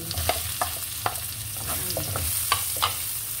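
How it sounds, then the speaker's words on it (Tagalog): Onion and garlic sautéing in a pan for ginisang sitaw, a steady close sizzle broken by sharp clicks and scrapes of a utensil stirring. "Hanguin natin at ating igigisa sibuyas at bawang"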